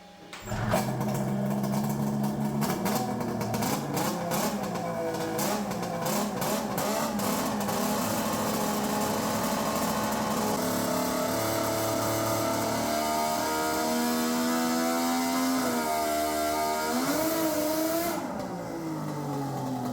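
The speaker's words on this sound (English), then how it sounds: "I'm gonna let it get higher in the revs" A small turbocharged two-stroke triple engine screams loudly and continuously, its pitch climbing and dipping as it revs high, then cutting off near the end.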